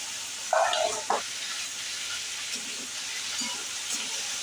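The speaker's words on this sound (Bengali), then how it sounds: "এদিকে পেঁয়াজ তেলে ভাজা করছি ওদিকে মাছ ভাজা করছি" Onions sizzle in hot oil in one pan while fish fries in another, a soft, steady crackle and hiss under a few light clinks of a utensil, with no talk.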